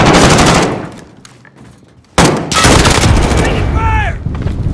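Loud, dense gunfire from a Call of Duty: Modern Warfare team deathmatch, with rapid bursts and blasts that drop away briefly before another heavy volley erupts and keeps going to the end.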